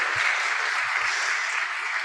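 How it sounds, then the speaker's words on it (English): Audience applause for a speaker at a university summit, a short burst of dense, even clapping from a crowd, steady throughout and alone without talk. "Come on, let's clap for her once more"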